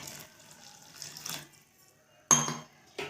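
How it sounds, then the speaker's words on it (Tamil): A tumbler of water is poured into a pot of poha kheer, giving a short splashing gush near the end, after quiet clinks of utensils and faint kitchen sounds. "இப்போது ஒரு டம்ளர் தண்ணி சேர்த்திக்கலாம்"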